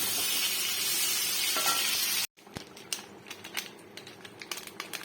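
Paneer frying in ghee hisses in a loud, steady sizzle, then cuts off abruptly to quieter, irregular scraping and clicking as the pan is stirred.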